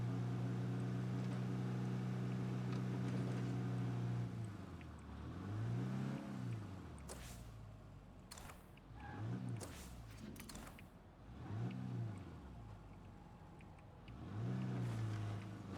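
A car driven in the zombie survival video game State of Decay 2, its engine droning steadily and rising in repeated revving swells as it accelerates, with a few sharp bumps midway and no talking.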